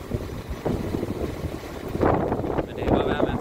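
Gusty wind buffets the microphone outdoors at a small rural railway station in West Jutland, with a steady rumble and louder surges near the end.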